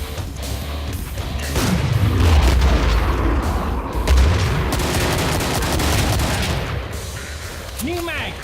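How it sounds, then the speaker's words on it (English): Gunfire fills the Killing Floor video game, heavy automatic chain gun bursts and booming impacts rolling on for several seconds, loud and dense, with a brief lull near the end. "A chain gun, you've got to be kidding."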